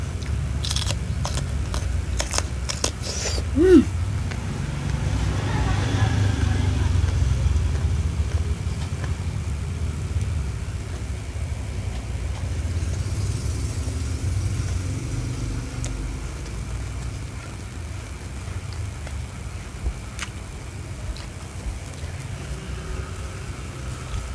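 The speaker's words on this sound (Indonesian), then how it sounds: "Rumahnya pinggir jalan jadi banyak motor, maaf ya teman-teman kalau berisik." Steady low traffic rumble from the street beside a house, with motorbike engines droning past and a few sharp clicks early on.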